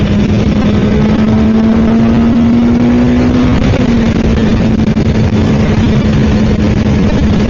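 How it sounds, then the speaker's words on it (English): A Suzuki Katana motorcycle engine runs steadily and loud for the whole stretch, a sustained drone holding one pitch with a slight rise midway, with no talking over it. "Oh my god, this bike is absolutely a screamer."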